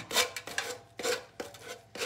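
Sandpaper rasps over a metal surface in repeated steady strokes, about four back-to-back scrubbing passes, close and clear with no talking.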